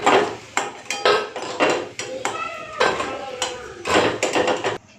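Metal utensils clatter and scrape against a pan while fried lentil and green banana fritters are lifted out of hot oil, loud and close in irregular bursts.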